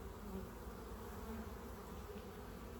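Honey bees buzz in an opened hive that is large but shows no sign of a queen: a steady, even hum of many insects, quiet and close, with no speech.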